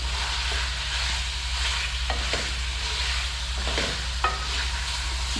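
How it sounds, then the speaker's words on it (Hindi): Yakhni pulao fries in a pot with a continuous sizzle, a low steady hum running underneath and occasional scraping knocks as a spoon stirs the rice. "इसको इसके साथ भून लेते हैं, थोड़ी सी देर लगेगी"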